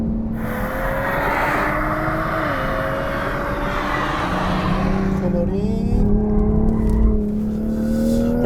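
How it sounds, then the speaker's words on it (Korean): Toyota GR Supra with a 387-horsepower engine accelerating on a road test, its exhaust note rising and shifting pitch in a steady drone while someone talks over it. "차가 달려나갈 때 뒤에서 들려오는 배기 사운드도 충분히"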